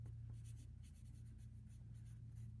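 A pencil scratches across paper while a name is written, giving a steady close-up scratching with short stroke bursts over a constant low hum, and no voices.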